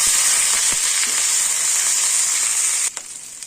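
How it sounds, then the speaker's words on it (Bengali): Potatoes frying in hot oil for a vegetarian aloo dum, a steady bright sizzle and hiss with a few stirring clicks, close and loud, easing off sharply near the end. "ভেজে নেব"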